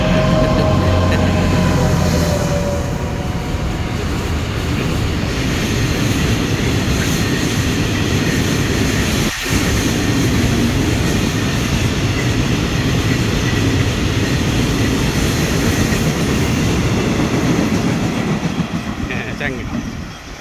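CSR locomotive 70102 hauls train 518 past at close range. It makes a loud, sustained rumble with rhythmic wheel clatter for about twenty seconds, then fades slightly at the end. A voice can be heard under the noise.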